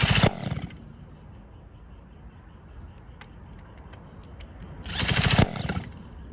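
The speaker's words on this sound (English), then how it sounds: "these are for like drilling on concrete, plug-in" A plug-in electric concrete drill briefly whirs at the start and again near the end, with quieter clicks and handling noise in between.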